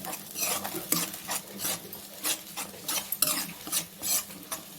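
Garlic and coriander masala paste frying in oil while a spoon stirs and scrapes it around the pan, giving a steady close sizzle broken by frequent scraping strokes, with no talking.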